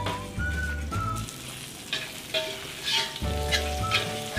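Shallots and garlic fry in a pan, making a steady close-up sizzle with crackling pops and a few faint whistling tones from the pan or stove.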